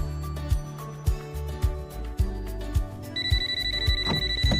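A telephone rings over a rhythmic thumping beat, the tone steady and fairly faint against the pulsing background.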